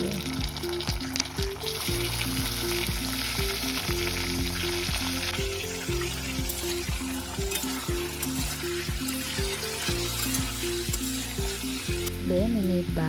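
Tomatoes and boiled potatoes sauté in a pan for sabudana khichdi, a loud steady sizzle with stirring scrapes throughout, with no talk.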